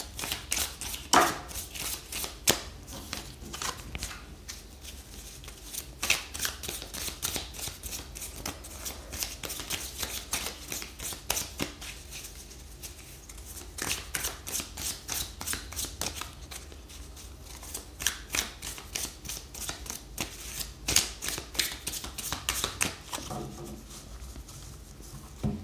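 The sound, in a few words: tarot cards being shuffled and drawn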